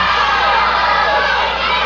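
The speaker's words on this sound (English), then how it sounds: "Crowd getting on his case." A 1979 Memphis wrestling arena crowd jeering at a wrestler: a loud, steady roar of many voices shouting and booing, with no quiet gaps.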